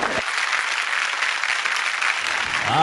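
A live audience claps enthusiastically at a Marathi stage show, dense sustained applause filling the whole stretch, loud and close, with faint crowd murmur underneath.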